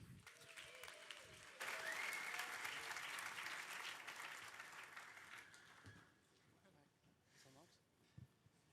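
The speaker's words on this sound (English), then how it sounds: "Let's give a massive round of applause for our very first finalist of the day" Audience applause at a hackathon closing ceremony in New York breaks out suddenly, loud and dense, then gradually thins and fades over several seconds, with a brief voice near the end.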